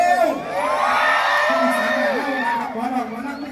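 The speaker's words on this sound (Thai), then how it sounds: "น้องบิว มาขอเสียงคนมากมากกันเร็ว" A crowd cheers and whoops loudly, with overlapping shouts and yells rising and falling together.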